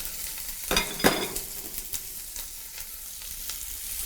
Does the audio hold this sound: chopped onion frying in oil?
yes